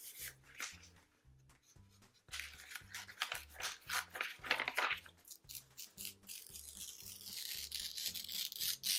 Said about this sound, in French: on déchire